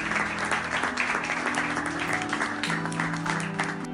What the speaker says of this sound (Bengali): আর সবাই জোরে জোরে হাততালি দিতে লাগলো।